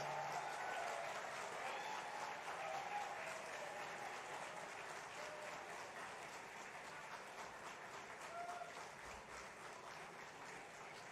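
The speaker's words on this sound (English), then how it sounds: "give him a big applause to say our thanks for his support" Staff of a state economic development corporation applaud at its 50th anniversary event, a sustained, even wash of many hands clapping in a large hall, heard from a distance and fading slightly toward the end.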